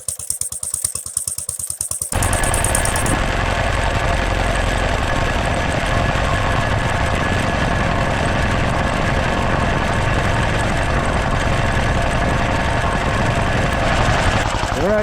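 An old Standard Monarch tractor engine starts up and runs steadily with a rough, loud, knocking idle that continues throughout after a brief quieter opening.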